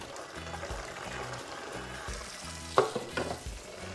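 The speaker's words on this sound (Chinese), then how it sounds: "那现在我们就把莲藕放在一个容器中清洗" Lotus root is swished and rinsed in a container of water, giving soft splashing and sloshing with a few sharper knocks and clatters near the end, fairly faint overall.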